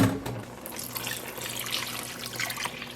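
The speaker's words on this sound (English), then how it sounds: "I'm gonna add, I think, 8 more cups of water" Water pours into a dye pot with a splashing, gurgling rush that stays steady and close for a few seconds.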